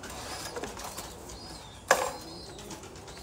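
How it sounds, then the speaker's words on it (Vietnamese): Thai Titan pigeons in a loft, faint soft cooing in the background with a sudden close burst of flapping wings midway, otherwise quiet. "Đô sẽ thấy những con chim bồ câu như thế này"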